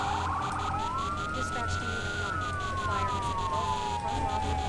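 A fire truck siren wails in the Firefighting Simulator video game, rising and falling in slow sweeps over a steady engine rumble, moderately loud, with a rapid yelp pattern at the start.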